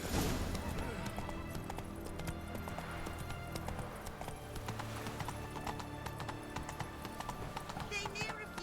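Roach the horse gallops in The Witcher 3, rapid clip-clopping hoofbeats running continuously under game music and spoken dialogue.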